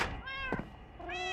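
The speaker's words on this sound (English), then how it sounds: "Do you hear all the mewing?" Minecraft cats mewing together inside a game, a set of high, sweet, drawn-out meows that overlap one another against a quiet background.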